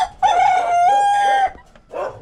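A newly bought chicken, a rooster on a Filipino backyard farm, crows one long, loud, drawn-out call up close, followed by a short fainter cluck.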